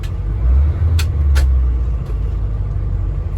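An old Wanderlodge bus drives along the road in Alaska, a loud, steady low engine rumble with road noise, broken by a couple of brief sharp hissing bursts.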